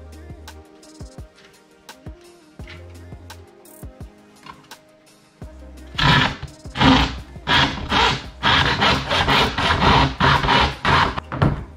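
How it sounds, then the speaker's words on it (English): Hand saw rasping through material in steady back-and-forth strokes in a garage, loud and close, starting after a few quieter seconds of scraping and handling. "keep going around sawing it perfectly straight until you get all the way through"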